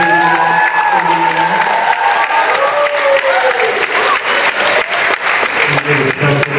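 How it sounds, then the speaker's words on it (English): School audience giving a round of applause for the adults who helped, with sustained steady clapping and a few voices rising above it throughout. "Let's give a big round of applause for all of the adults."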